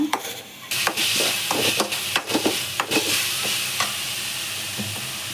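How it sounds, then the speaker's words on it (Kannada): Onion paste sizzles steadily in a hot pan with salt added, a continuous frying hiss broken by repeated scraping stir strokes from a spatula, close and fairly loud with no talking. "ಸೊ ಈರುಳ್ಳಿ ಪೇಸ್ಟು ಚೆನ್ನಾಗಿ ಫ್ರೈ ಆಗಲಿ, ನಾನು ಸ್ವಲ್ಪ ಉಪ್ಪನ್ನ ಹಾಕ್ಕೊತಾ ಇದ್ದೀನಿ."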